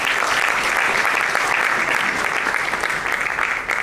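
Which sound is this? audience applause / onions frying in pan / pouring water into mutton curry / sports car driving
audience applause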